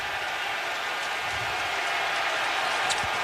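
Steady roar of a stadium crowd at an NFL wildcard playoff game, Bengals hosting the Raiders, loud and continuous with no clear breaks, forming a dense wash of noise.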